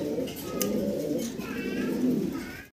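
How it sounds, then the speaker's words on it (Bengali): A pair of imported blue bar pigeons cooing close by, low throaty rolling coos repeating steadily through the moment with faint background chirps. "ব্লু বার এক পেয়ার কবুতর আছে অসাধারণ সুন্দর"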